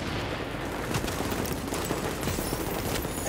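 Mortar and gunfire in the game Tom Clancy's The Division: a dense, sustained barrage of loud sharp bursts and booms close by, continuing without pause and with no voices.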